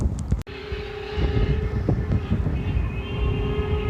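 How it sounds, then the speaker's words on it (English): A tour train circling a local pond, heard from a distance as a steady rumbling drone with a faint sustained horn-like tone running throughout, outdoors. "What you hear in the distance is kind of like a tour train."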